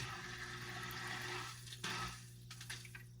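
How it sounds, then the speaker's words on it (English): An aquarium filter starts up in a milk snake's tank, giving a steady watery trickle and low pump hum with a few splashy bursts, fairly faint and close. "let's go ahead and plug his filter in"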